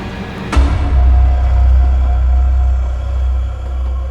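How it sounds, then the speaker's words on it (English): A sharp clunk gives way to heavy, continuous low rumbling, like a train carriage lurching and then rolling on with a deep, steady drone. "the train took a jolting shake"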